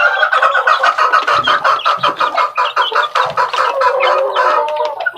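A flock of chicks cheeps and clucks busily while being fed, rapid overlapping calls close by and loud, with faint soft pecking underneath and no talk.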